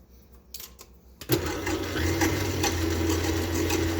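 Electric mixer whisking eggs with granulated sugar for Japanese soufflé pancakes, a steady close motor whir that starts after a short pause and runs continuously, with faint clinks against the bowl.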